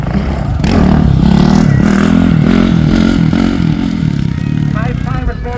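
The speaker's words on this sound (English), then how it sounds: "He gets on the bike, stands on the bike, stands it up, puts his leg off the back of the machine, or what we call the Valentino Rossi wheelie." A motorcycle revs hard for a wheelie stunt at a vintage car show in Kington, Herefordshire, its engine roaring loud and steady throughout while crowd noise and voices mix in underneath.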